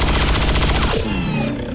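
Beam cannon in the XCOM 2 strategy game fires a loud, dense burst of rapid crackling shots, then a sweeping electronic whine fades as the volley ends, with no talk over it.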